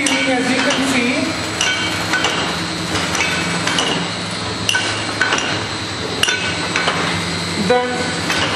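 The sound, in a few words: piston liquid filling machine filling bottles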